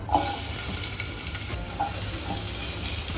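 Grated coconut roasts in a pan for a Goan-style monsoon dish, giving a continuous dry sizzle with occasional scraping stirs and a few light clinks, close by and without speech.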